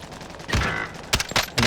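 Sniper and rifle gunfire in Call of Duty: Warzone, with a sharp shot followed by several more cracking bursts in quick succession, loud and close at a distance.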